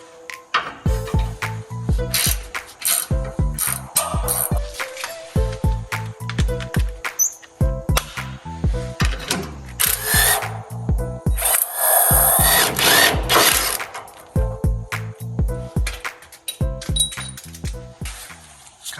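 Hand tools working a rusty-prone suspension bushing bolt loose while lowering a Volvo C30, loud rapid ratcheting clicks in repeated bursts separated by short pauses and metallic scraping.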